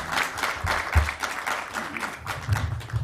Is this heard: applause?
yes